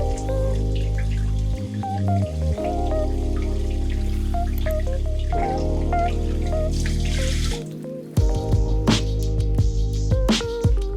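Water runs steadily from a kitchen faucet into a sink while potatoes are washed under it, loud and continuous with splashing shifts, no talking.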